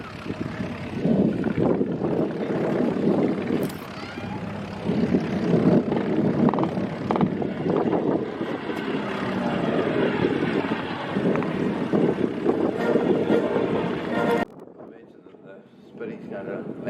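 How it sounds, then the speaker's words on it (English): Mk-1 Avro Anson twin propeller aircraft flying with its wheels up, a loud droning engine roar with wind buffeting and voices talking over it, dropping off sharply near the end. "See our Avro Anson rolling"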